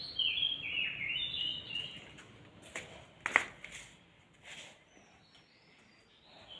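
Birds chirp and twitter in a home garden, a steady stream of light, fairly faint calls that fade after the first few seconds, with a few soft rustles and knocks nearby.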